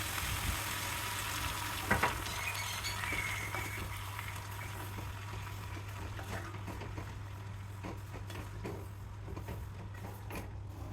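Spinach and onions cook in a pan, sizzling softly with a steady hiss over a low hum, with one brief clunk early on and light scraping afterward.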